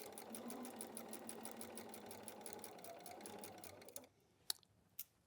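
Domestic sewing machine stitching a wall hanging quilt, a fast steady whirring rattle running continuously for about four seconds before stopping abruptly, followed by two sharp clicks in the quiet.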